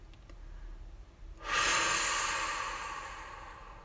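A long, slow exhale during a relaxation exercise, starting abruptly after a quiet moment and fading gradually as the breath runs out, close and clear.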